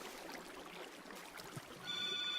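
A phone rings in the room, its bright electronic ringtone coming in toward the end over a faint hiss of background noise.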